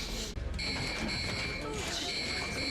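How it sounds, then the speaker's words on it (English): A spacecraft's carbon dioxide alarm from a TV drama sounds as steady electronic warning tones that hold throughout, with voices talking over them. "Carbon dioxide alarm."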